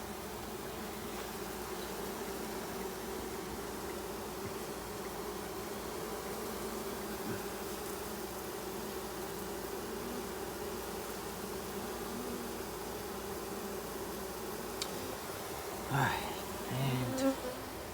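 Dense, steady buzzing of a mating swarm of insects over a yard, a continuous drone holding for the whole stretch with a few closer, louder passes near the end.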